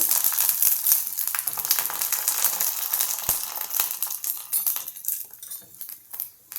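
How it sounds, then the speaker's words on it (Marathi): Kurdai, dried rice wafers, frying in hot oil in a kadhai, giving a steady close crackle and sizzle with bright crinkly bursts and a faint clink of utensils, no voices. "ही कुरडई मी तळून घेते"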